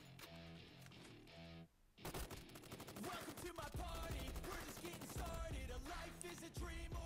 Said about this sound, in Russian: Так, по мне снайпер отрабатывает.